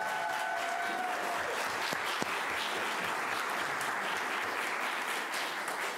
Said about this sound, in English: Miss Felicia, you deserve applause as well